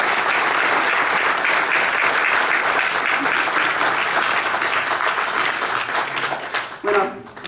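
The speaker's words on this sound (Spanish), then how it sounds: "vamos a hacer el primer aplauso por ese cumpleaños" An audience at a book launch applauds for Hugo's eightieth birthday with dense, sustained clapping that fills the room at full volume, then thins and breaks up near the end.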